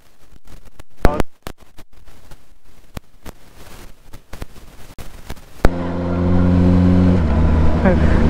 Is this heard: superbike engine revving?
yes